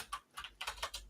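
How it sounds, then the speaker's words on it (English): A noisy computer keyboard clacks under quick typing, with a handful of distinct, crisp keystrokes in an uneven rhythm, close but quiet, and nobody speaking. "I will just excuse my noisy keyboard."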